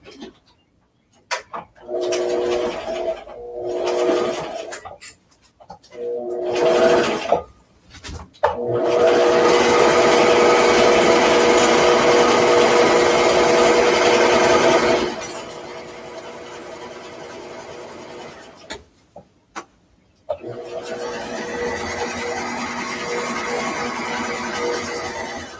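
A sewing machine stitching clear vinyl for a bag overlay, running in short bursts at first and then in one long steady buzzing run, stopping and restarting with a brief pause, close and clear.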